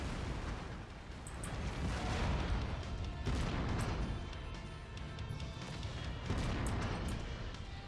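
Autocannon fire and impact blasts from a battling mech in Mechwarrior 5, loud, dense and continuous, with booming explosions and crashes layered over a steady roar of combat.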